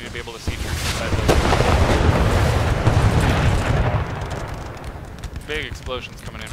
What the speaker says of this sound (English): Big explosions coming in from those rockets.